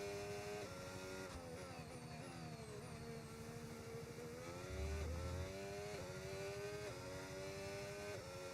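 A Formula 1 car on a flying lap in Brazil in the F1 25 racing game on soft tyres: a loud, continuous high-revving engine whine that rises and falls through repeated upshifts and downshifts, with no talk.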